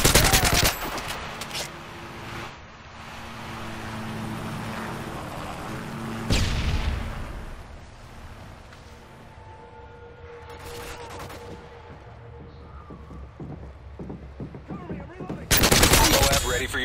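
Gunfire in Modern Warfare 3, with a sentry gun firing among scattered shots and booms, loud bursts at the start and again near the end. A quieter stretch in between carries game effects and a faint voice.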